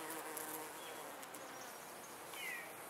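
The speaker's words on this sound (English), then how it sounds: "So here's a honeybee" A honeybee buzzes among the flowers of a cherry blossom tree outdoors, a faint, steady insect hum with a brief rising whine near the end, heard alone without talking.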